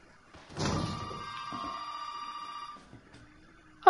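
An old-fashioned telephone bell rings in the video game Resident Evil 7, a single sustained metallic ring that lingers and fades over about two seconds in a quiet, eerie space.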